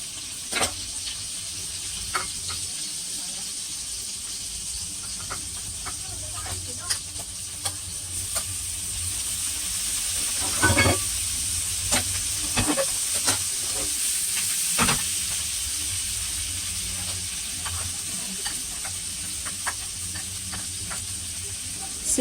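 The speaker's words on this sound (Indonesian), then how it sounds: "Tapi saat ini saya hanya menggoreng dengan warna kesoklat-soklatan." Steady sizzling and hissing of seafood frying in a pan, with occasional stirring clatter and sharper crackles throughout.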